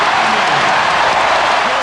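A packed basketball arena at a 1996 NBA Finals game between the Bulls and the Sonics roars in a dense, loud, continuous wash of cheering that holds steady without a break.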